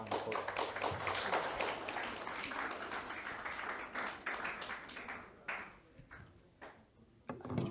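An audience applauds at a poetry night open mic. The clapping is dense and steady at first, then thins into scattered claps and fades toward the end.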